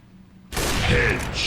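Sudden burst of gunfire erupts in Resident Evil Village after a brief quiet moment, loud and sustained with rattling, echoing shots.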